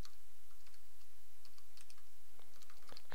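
Quiet, irregular clicking of keys on a computer keyboard, short bursts of taps with brief pauses, close by and fairly soft.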